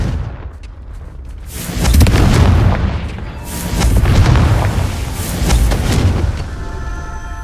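Booming spell explosions from Confringo in Hogwarts Legacy, three heavy blasts rolling out in succession with deep rumbling tails, loud and close over background game ambience.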